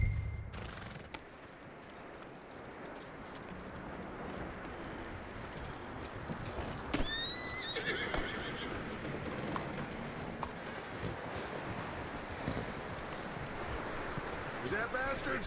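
Horse hooves clip-clop in Red Dead Redemption 2, a steady patter under dense game ambience and a voice, with a brief higher whinny-like call midway.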